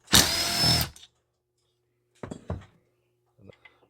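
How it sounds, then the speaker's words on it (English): A power driver whirs for about a second as it backs a Torx screw out of a Stihl MS500i chainsaw, followed by brief clicks and handling noises of the saw parts. "take that Torx out."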